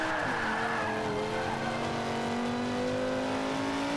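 A Lamborghini drifts in Forza Motorsport 5, its engine droning steadily while the tyres skid and squeal without a break, loud and close, with no talking over it.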